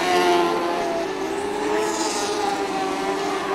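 Sprint race cars roar around the Archerfield Speedway dirt track, a steady loud engine drone with a sustained whine and no speech over it.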